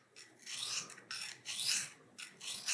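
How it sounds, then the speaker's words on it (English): A rusty carbon steel knife being sharpened, with five rhythmic rasping strokes in a row, close and clear, with no talking. "That's the biggest thing with sharpening a knife that I've found"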